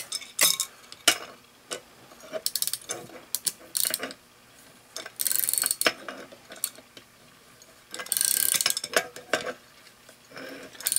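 Adjustable wrench tightening a nut on a Lincoln Continental alternator, giving irregular metallic clicks and scraping bursts up close, with brief louder rasping stretches between quieter handling noises.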